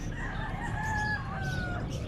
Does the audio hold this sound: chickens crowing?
yes